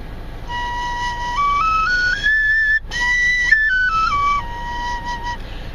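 Handmade Cherokee four-hole wooden whistle played close up, a breathy flute tone stepping up through several notes and then back down in a steady scale, with a brief break in the middle.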